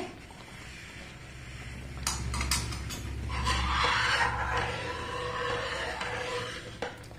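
Semolina (rava) being stirred with oil in a pan for kesari, a soft run of scraping, clinking and shuffling strokes at moderate level, swelling in the middle and easing off, with no talking.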